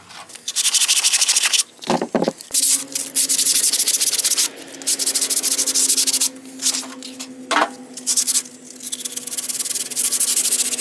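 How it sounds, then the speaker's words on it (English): Wood is hand sanded with coarse 40 or 36 grit sandpaper, loud, close abrasive strokes rasping back and forth in steady bursts with short pauses between them. "we'll just hand sand it real quick with some 40 grit or 36 grit just to smooth it out"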